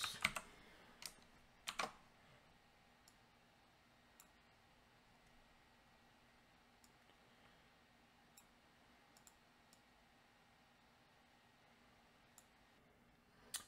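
Quiet typing on a computer keyboard while text is entered in a game development tutorial, with a couple of brief bursts of clustered keystrokes near the start, then sparse isolated clicks spread across a faint, hushed background.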